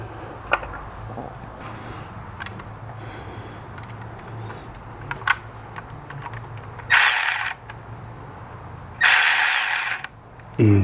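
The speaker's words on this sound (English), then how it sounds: "And tighten down your worm gear." A worm gear hose clamp being tightened on an oil catch can installed on a 2.0 turbo Jeep Wrangler, with scattered small metallic clicks and ratcheting, plus two louder bursts of hissing noise.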